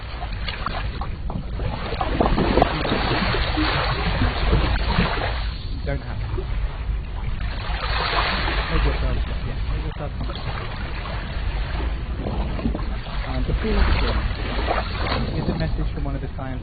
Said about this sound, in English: the sounds of the ocean.